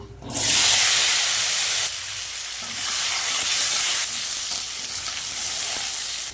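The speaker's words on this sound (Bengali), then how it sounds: "এবার আলুগুলো ভেজে নেব" Potatoes dropped into hot oil burst into a loud hiss, which settles into a strong, steady frying sizzle with a few faint stirring movements, heard up close with no talking.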